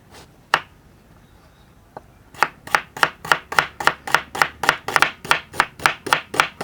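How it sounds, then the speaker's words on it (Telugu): A knife thinly slices onions on a board, starting with two isolated taps and then settling into a rapid, even run of sharp, close chopping strokes about three per second, with no talking. "ఉల్లిపాయలు పులుసుకి ఈ విధంగా సన్నగా కోసుకోవాలండి"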